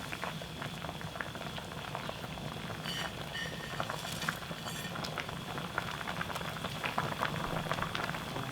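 Kimchi sujebi soup with floating dough pieces bubbles away in a pot, giving a steady, busy boiling patter with small pops and crackles throughout, moderately quiet and with no voices.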